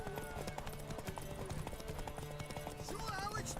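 Horse hooves clopping at speed in The Witcher 3: Wild Hunt, a quick steady rhythm mixed with game music and character voices speaking over it.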